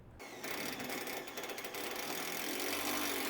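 A 5/16 bit on a power driver spins screws into an aluminum pergola, giving a steady, close mechanical whir that ramps up and holds with a slight grinding rattle.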